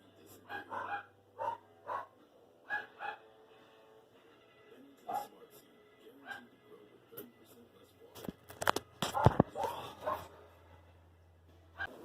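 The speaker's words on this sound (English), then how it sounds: "my house is a nut house right now because all the dogs are barking throughout this whole interview" Several dogs bark indoors in repeated short bursts, near and fairly loud, with a louder cluster of barks toward the end.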